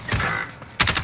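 Gunfire crackles in the battle royale game Warzone: a steady, loud run of shots is followed by a sharper burst of rapid reports near the end, with no talking.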